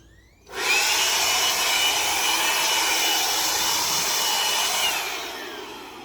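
Ryobi 18V ONE+ cordless compact workshop blower (model P755) running on its highest setting over a patio: a sudden start into a loud, steady rushing whoosh of air that holds for several seconds, then tapers slightly, no talking.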